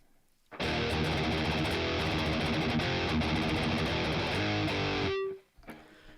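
A heavily distorted electric guitar chord through a Boss Katana amp rings out loud and sustained for several seconds, then cuts off abruptly, leaving a brief quiet tail.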